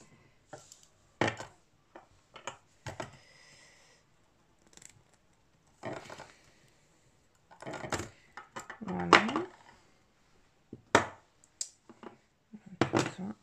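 Jewelry pliers with a cutting edge snip craft wire at close range, giving a few sharp, isolated clicks and snaps separated by quiet pauses, with some handling rustle and brief voice between them.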